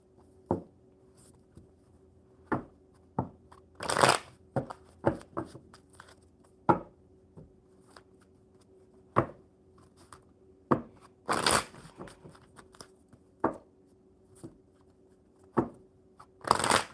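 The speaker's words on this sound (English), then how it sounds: "one more good shuffle for Sandy" Playing cards shuffled by hand at a table, a series of crisp riffling bursts and soft taps at irregular intervals, close and clear with no talking.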